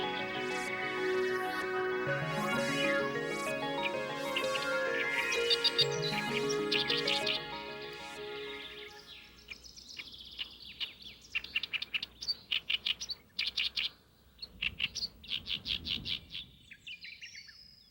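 Oriental reed warbler calling near its nest on Bido island at the western edge of the DMZ, a run of loud, close chirps and harsh repeated notes, dense at first, then broken into short separate bursts.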